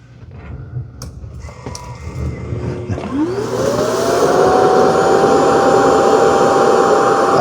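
An Ecovacs X11 Pro robot vacuum's docking station empties the dustbin: a few clunks and mechanical clicks, then a loud suction motor spins up with a rising whine and holds a steady roar.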